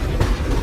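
Chennai–Nizamuddin Rajdhani Express running through the Chennai Central depot, a steady loud rumble of wheels on rail with low-end roar and faint rhythmic clatter.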